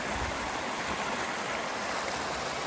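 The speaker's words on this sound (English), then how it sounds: "Very cool looking stream." Along Rocky Row Run, a stream flows with a steady, broadband rushing and babbling that stays constant and fairly close throughout, with no voices over it.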